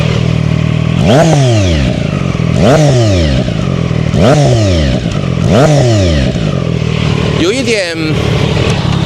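CFMOTO 675SR and ZONTES 703RR motorcycle engines rev hard up close: four sharp, evenly spaced throttle blips rise and fall in pitch, then a fifth, rougher rev follows. The engines sound loud and dominant throughout.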